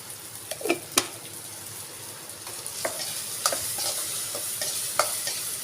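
Fish head muri ghonto mixture with onions, salt and sugar being stirred in a frying pan, a steady sizzle broken by scattered scraping clinks of the spoon against the pan.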